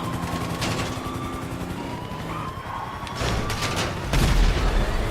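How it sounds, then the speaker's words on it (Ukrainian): Tanks fire on the player at a military base in GTA 5, on PS4: deep cannon booms and rattling gunfire over a steady mechanical drone, ending in a heavier blast. "По нам стріляють танки, головне не зупинятися."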